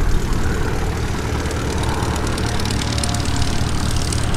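A propeller airplane departs the runway at EAA AirVenture Oshkosh 2021, a loud, continuous engine roar that holds steady and close throughout, with no talk over it.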